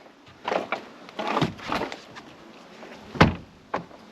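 An Audi car door with a shunted bottom hinge is swung shut again and again without latching, giving several loud, close thuds and clunks with quieter rattles in between.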